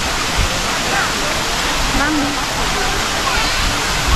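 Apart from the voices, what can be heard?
waterfall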